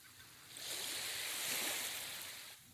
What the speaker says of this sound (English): You hear the waves crashing.